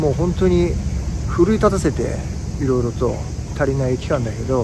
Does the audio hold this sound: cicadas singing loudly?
yes